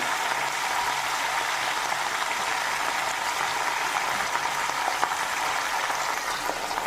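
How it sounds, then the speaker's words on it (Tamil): Eggplant sautés in oil with mustard seeds, an even, hissing sizzle holding steady at moderate loudness, with tiny scattered crackles and no speech. "கத்திரிக்காயை நல்லா ஆயிலே ஒரு டூ மினிட்ஸ் வதக்கிக்கலாம்"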